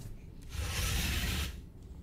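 A wet, rasping gnaw from something chewing in the horror game Jisatsu, in a dim interior. A close burst of grinding, rubbing noise rises out of low ambience, holds for about a second, then drops away.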